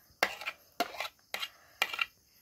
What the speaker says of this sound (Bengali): প্রথমেই দিয়ে দিচ্ছি পেঁয়াজ কুচি